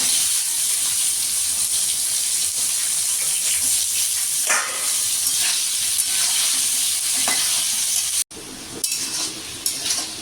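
Sliced, washed and drained potatoes fry in a pan for muri ghonto, a steady close sizzle with stirring scrapes throughout and a brief break near the end, no talking.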